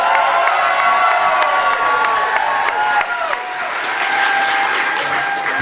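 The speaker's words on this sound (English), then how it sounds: "So everyone give me a round of applause for Celebration Orlando." Loud audience applause and cheering at a Star Wars fan event, dense clapping mixed with whoops, high shouts and excited voices from a big crowd, holding strong throughout.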